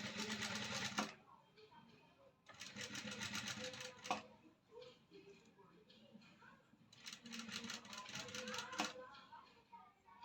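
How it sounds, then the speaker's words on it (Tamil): Domestic sewing machine stitching a blouse neckline, running in three bursts of rapid whirring chatter separated by pauses where a quiet voice talks in the background. "கழுத்து இப்படி வளைச்சி வச்சு பிடிச்சி தையல் போடணும்"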